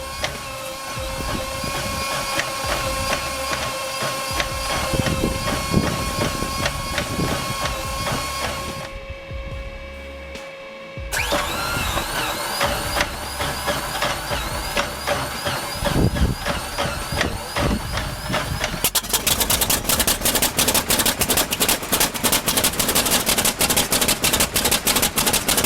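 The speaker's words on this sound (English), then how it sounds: "In the heat of Florida, the 1951 T-28A didn't just start, it awakened. Its 800 horsepower R1300 snapped back to life" A 1951 T-28A trainer's 800 hp R1300 radial engine starting: a loud whining crank and sputtering catches, a brief drop out, then the engine firing into a rapid, hard-pulsing rumble that grows rougher and louder toward the end.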